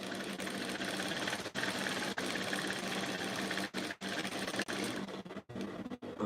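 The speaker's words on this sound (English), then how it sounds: "I'm going to join on my crotch line like this" Sewing machine stitching the crotch seam of a pair of shorts, a steady close whirring drive that runs almost continuously, broken by a few short pauses.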